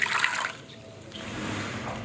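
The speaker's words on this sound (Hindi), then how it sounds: "ऐसे ही हमने 2-3 पानी से वॉश कर लेने हैं" Grated potatoes being rinsed in water for hash browns, with a splashy swish and trickle that is strongest at first, then settles into a softer, steady watery wash close by.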